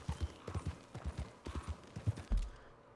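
Horse hooves in Red Dead Redemption 2 clip-clop at a steady trotting rhythm, close and distinct, with a thud near the end as the gait stops.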